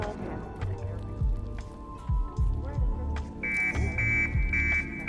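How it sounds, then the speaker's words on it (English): A forklift alarm in Hitman 3 beeps in short repeated high tones during the last part, sounding over footsteps and game ambience while a person talks throughout. "we're gonna turn on the forklift alarm"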